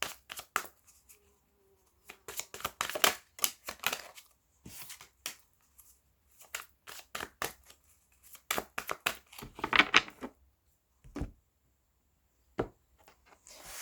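A deck of cards is shuffled and cut by hand, close up: bursts of quick riffling and soft slapping clusters come in irregular runs with short pauses between them, with no talking.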